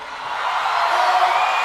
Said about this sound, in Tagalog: Tingnan nga natin kung sino yung malakas ang sigawan